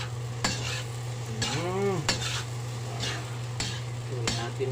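A spatula scrapes and stirs fried rice and crispy pata in a hot pan with repeated metallic strokes and a steady sizzle, under the constant hum of an exhaust fan.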